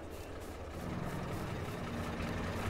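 A tractor engine idles in Farming Simulator 22 as a low, continuous rumble with a steady throb, growing slightly fuller partway through.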